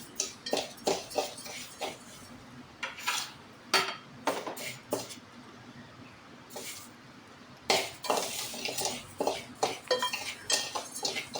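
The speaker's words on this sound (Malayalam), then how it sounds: "ഇത് വറുത്ത് കിട്ടുന്നവരെ ഇതുപോലെ ഇളക്കി കൊടുത്തുകൊണ്ടേ ഇരിക്കണം." Rice scraped and stirred around a hot pan while frying until crisp, giving irregular bursts of metallic scraping and clinks of a utensil against the pan, steady and close, with a brief lull midway and no talking.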